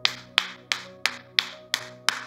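Seven sharp, evenly spaced hand claps at a Sunday church service, close and crisp with a short ring after each, in a steady rhythm.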